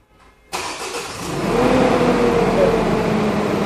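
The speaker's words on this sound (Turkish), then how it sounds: "Çalıştırın arabayı." A Nissan Navara pickup engine cranks and catches after a short quiet moment, then settles into a steady, fairly loud idle close by that holds to the end.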